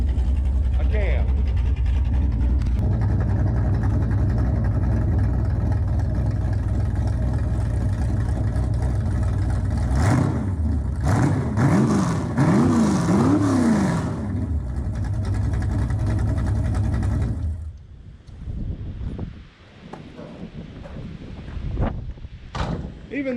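A 340 Duster V8 idles and revs with open headers, giving a loud, steady, wheezy, tractor-like rumble. The sound is close, with a brief surge partway through, then it drops off toward the end.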